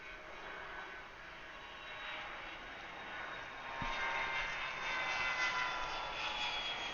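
A jet airliner takes off from Atlanta Airport, a steady broadband engine roar at moderate distance that swells slightly louder in the second half, with no talking.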